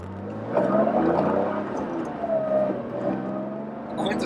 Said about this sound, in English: Quintessential air-cooled 911 sound, which I love.